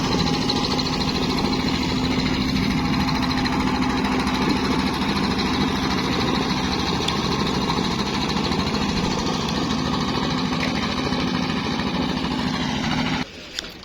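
A boat's motor pulls away from a ghat on the Jamuna River, sounding as a steady, loud, mid-pitched drone that holds without a break and then cuts off abruptly near the end.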